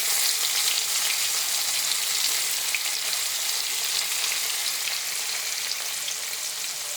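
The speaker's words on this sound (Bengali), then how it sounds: "এই যে কড়াতে তেল দিয়ে দিয়েছি, এখন পনিরগুলো ভেজে নেব।" Paneer pieces fry in hot oil in a wok, giving a steady, dense sizzle with crackling bursts throughout, close and even, with no voices.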